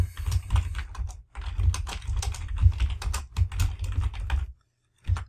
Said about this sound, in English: We're going to type in our description.